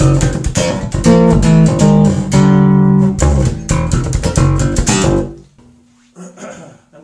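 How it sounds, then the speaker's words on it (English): Slap bass with right-hand chord notes: a dense, punchy run of slapped and plucked strings with sustained chordal tones, close and loud, fading to a soft held note near the end. "The place where you hear the most of the slapping or the slap bass is when somebody is playing a solo."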